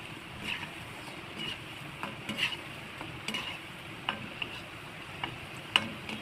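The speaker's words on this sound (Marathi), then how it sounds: "मस्त हे पकोडे झालेले आता याला पलटी करून बघते" Pakoras for dahi kadhi frying in hot oil, a faint continuous bubbling sizzle with scattered light clicks and taps as they are turned, quiet and close with no talking.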